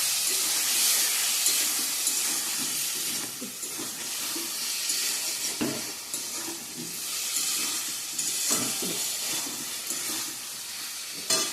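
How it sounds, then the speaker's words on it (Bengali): Ground spices such as chili, cumin and coriander sizzle steadily in a pan with a splash of water, a continuous bright hiss broken by occasional scraping stirs, fairly close and without speech. "একটু জল দিয়ে কষিয়ে নিব ভালো করে আর একটু।"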